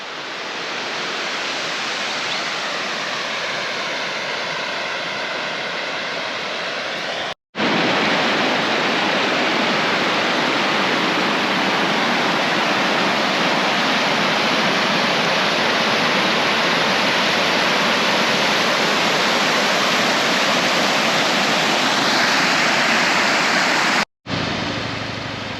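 Loud, steady rush of water pouring over a weir on the Balonne River near Surat, South Queensland, a dense unbroken roar heard up close, cut by two brief dropouts, with no voices.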